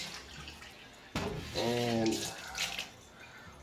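Water is poured out of a small container during a pH and TDS pen test, a short burst of splashing and gurgling lasting about two seconds after a quiet start, faint and close.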